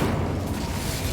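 An Incendio fire spell in the Hogwarts Legacy video game gives a dense, steady roaring whoosh, loud and low-heavy, holding evenly for about a second.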